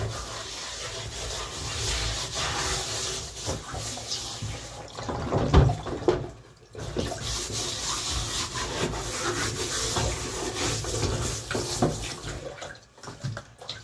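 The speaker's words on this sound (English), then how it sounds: "Get the running water." Tap water runs steadily over a raw basa fish fillet being rinsed, a continuous splashing hiss with a brief break midway, close and loud.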